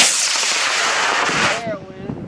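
A high power rocket launches with a loud, close roaring rush of motor thrust that holds steady for over a second and a half, then cuts off abruptly, leaving a faint tail and a distant voice.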